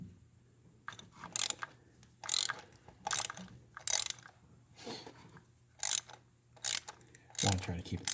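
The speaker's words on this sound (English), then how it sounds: "So I got my 3/8 ratchet and 5/8 spark plug socket." Bursts of ratcheting clicks from a 3/8-inch ratchet turning a 5/8-inch spark plug socket, loosening a spark plug on a Land Rover LR2 / Freelander 2 engine, repeated in short strokes with quiet pauses between, close and fairly soft.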